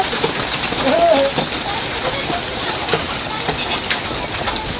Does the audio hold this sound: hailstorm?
yes